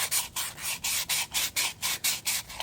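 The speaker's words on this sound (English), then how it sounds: "take some 220 sandpaper and" Sandpaper of 220 grit rubbing back and forth over the rough edges of a lead plumbing stack, close and loud, in about ten steady rhythmic strokes with brief gaps between them.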